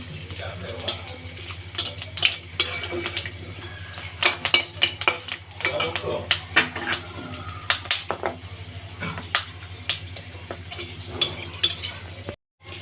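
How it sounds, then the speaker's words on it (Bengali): Cumin seeds and garam masala tempering in hot oil, crackling and sizzling close by as short, sharp pops and scrapes repeat over a steady low hum throughout. "তেল গরম হয়ে গেছে, এবারে দিয়ে দিচ্ছি সামান্য পরিমাণে জিরে, আর দিয়ে দিচ্ছি গরম মশলা ফোড়ন"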